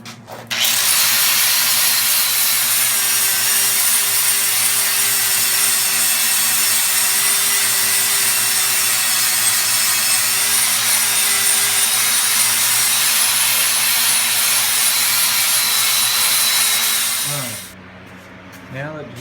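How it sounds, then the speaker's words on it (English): An angle grinder with a flat disc grinds weld beads and chunks off an axle tube during a Ford 8.8 swap into a Jeep XJ, a loud continuous whine and rasp that runs close for about seventeen seconds and then spins down. "take you a flat disc and get all these big pieces of weld and chunks down"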